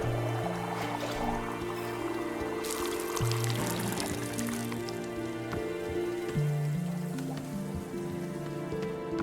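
Roasted coffee pours steadily in the video game Wanderstop, a continuous splashing trickle over layered background music.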